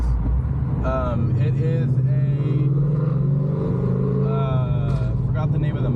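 A Ford Mustang 5.0 V8 with long tube headers, a 1 7/8 catless X pipe and Valvetronic mufflers idles with a deep, steady exhaust rumble, close by, while someone talks over it.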